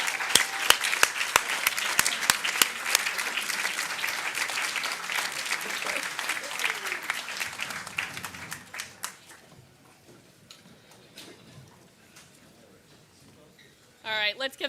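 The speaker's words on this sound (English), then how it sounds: "let's give them one more round of applause now that we've got them all up here" An audience applauds the Curiosity rover mission team at a Mars mission event, with loud, dense clapping and sharp individual claps that slowly thin out and fade, before a short burst of voices near the end.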